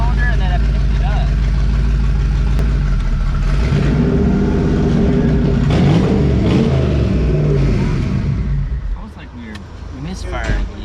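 A HEMI race engine revs hard at speed with a misfire, making a loud, sustained, rough roar that surges and falls, with people talking over it.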